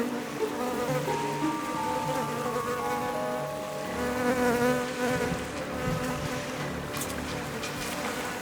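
Flies buzz around carrion in a prehistoric forest, a dense, steady insect drone with many overlapping wingbeat tones, close and continuous throughout, with no voices.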